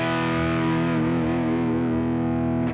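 Heavy, saturated electric guitar tone rings out as a sustained distorted chord with thick harmonics, loud and close, playing alone without talk for a few seconds.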